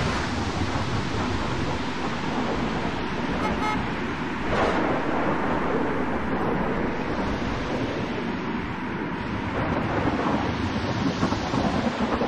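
Storm in the Gas Station Simulator video game, a steady roar of wind and rushing noise like surf, loud and constant, with a couple of brief higher gusts and no speech.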